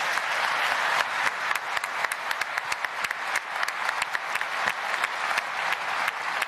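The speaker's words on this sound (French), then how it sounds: "vous pouvez les applaudir" Dense applause from a large audience at a climate summit in Paris, a loud continuous roar of clapping with sharp individual claps popping out, steady for the full stretch.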